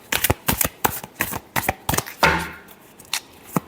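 Tarot cards shuffled by hand in quick, rhythmic bursts of papery riffling and tapping, close and clear with no talking, ending in a final brief flutter.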